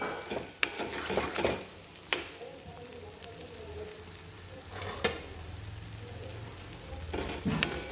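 Raw banana gravy sizzles steadily in a pan while a utensil scrapes and stirs, with a few sharp clinks against the metal.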